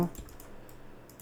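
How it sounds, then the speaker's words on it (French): Quiet mouse and keyboard clicks while playing Evolucraft, a handful of sharp, faint taps spaced irregularly across a second, with no voices. "Je clique gauche, je clique 3, ça marche pas"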